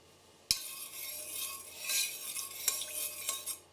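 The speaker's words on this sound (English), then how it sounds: "Turn on the stove and stir." Sugar syrup stirred in a pot on a stove for chomchom, a steady close scraping and swishing with a few light clinks of the spoon against the pot, no voices.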